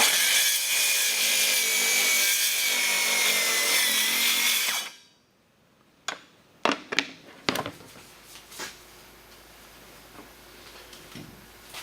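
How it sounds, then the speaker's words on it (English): A circular saw whines loudly as it cuts through material during work on a 1941 Dodge Power Wagon diesel conversion. It then winds down to quiet, and a few scattered knocks and clunks follow. "It cuts with a circular saw"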